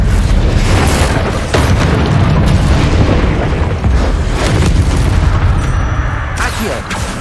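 Confringo spell blasts in the video game Hogwarts Legacy, a loud, dense run of booming explosions and crackling bursts that fills the whole stretch, layered with game effects and faint voices.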